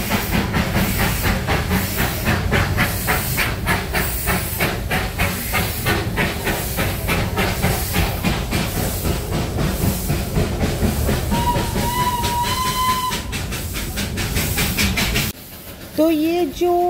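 The steam engine of the 2-foot-gauge Darjeeling toy train in West Bengal hisses loudly and continuously, with rhythmic chuffing pulses and a brief sustained whistle-like tone. The sound cuts off abruptly near the end.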